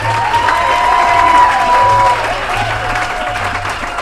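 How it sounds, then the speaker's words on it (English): An audience applauds in a steady, loud wash of clapping that continues throughout, with a few cheers and voices mixed in. "everybody having a round of applause for Bill on his way out."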